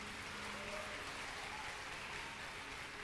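Church congregation applauding steadily, a continuous wash of clapping at moderate distance with no voices on top.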